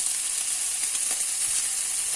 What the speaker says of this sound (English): I'm only going to do a small batch at a time because I don't want it to start steaming rather than frying